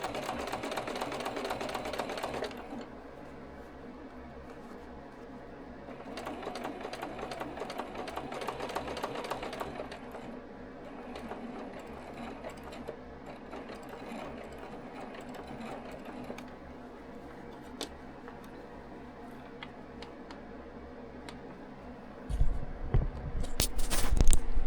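A sewing machine stitches through thick quilted jacket layers over a bulky hump, with rapid mechanical whirring bursts that start and stop, long quieter stretches of slow stitching, and louder clunks near the end.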